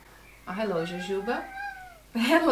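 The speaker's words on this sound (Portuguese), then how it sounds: "Definitivamente não é um gato silencioso." A cat meows in drawn-out, rising and falling calls, close by, while a person greets it in a friendly voice before and between the meows.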